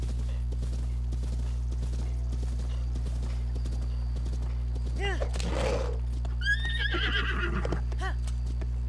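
Horse hooves clip-clopping and a horse neighing in Zelda: Breath of the Wild, soft rhythmic hoofbeats over a low steady hum, with one or two clear whinnies rising in the middle and someone talking over parts of it.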